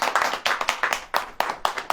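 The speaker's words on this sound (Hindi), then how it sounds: "ताली नहीं बजेगी क्या?" Church congregation clapping hands together in a sermon gathering, a loose rhythmic run of firm, close claps in uneven groups, with faint voices underneath.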